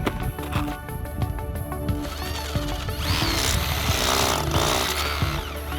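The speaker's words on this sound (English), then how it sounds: "But I brought this big drill. We're just gonna try." Big power drill grinding into rough volcanic rock inside a volcano, a loud harsh rattling roar that builds and grows noisier partway through, steady and close throughout.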